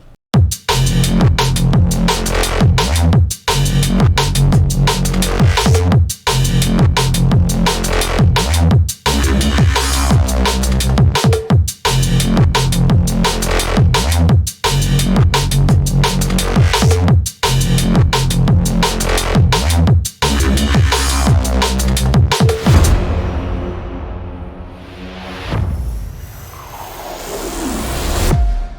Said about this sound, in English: we're going to make a drum and bass Reese bass